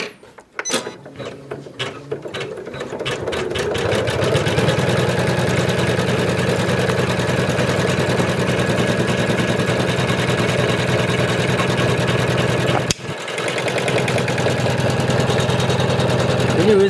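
An embroidery machine stitching appliqué onto fabric runs with a loud, steady, rapid mechanical chatter close by, briefly pausing partway through before resuming at the same even pace.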